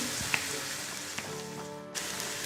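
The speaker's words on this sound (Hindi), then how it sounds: "शिमला मिर्च को भी हमने 2 से 3 मिनट पका लिया।" Capsicum cooking in a pan gives a soft, steady sizzle with a few light clicks of stirring, close up and quiet with no talking.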